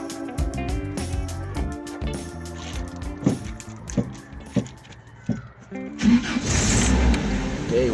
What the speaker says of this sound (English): Now we're going to start our engine.